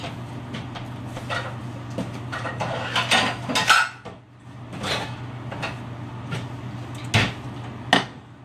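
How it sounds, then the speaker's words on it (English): Metal pans clatter and knock as another pan is pulled out and set down on a kitchen stove, sharp scattered clanks over a low steady hum, with a few louder bangs near the end. "I'm going to get out another pan for my asparagus."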